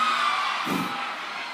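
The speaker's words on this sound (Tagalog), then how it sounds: "Parang babae yung mga sumigaw," A crowd of women at an outdoor concert for a provincial anniversary celebration lets out a brief excited scream and cheer, a loud burst rising over steady background noise and then fading.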